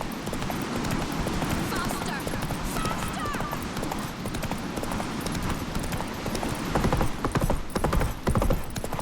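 A horse named Roach gallops in The Witcher 3: Wild Hunt, its rapid hoofbeats drumming steadily for the whole stretch, with a brief whinny early on and a voice speaking over the pounding.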